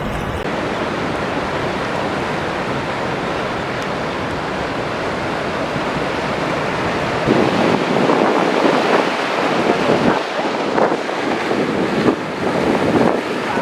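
Sea waves wash in at Digha beach, a broad continuous roar of surf mixed with wind buffeting the microphone, growing louder and more turbulent in the second half as water rushes closer.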